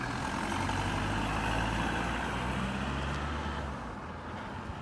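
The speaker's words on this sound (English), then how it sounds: "Car." A car passes on the road outside, a broad rumble of engine and tyre noise that swells and then fades away toward the end.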